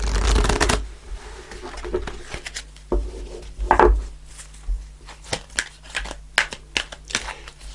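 Tarot cards being shuffled by hand up close, a run of crisp riffling and slapping bursts followed by lighter taps and flicks, with no speech.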